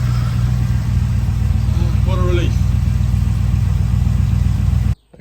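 AK Cobra kit car engine idling just after its first start, a steady low rumble held throughout, with a brief voice over it before the sound cuts off abruptly at the end.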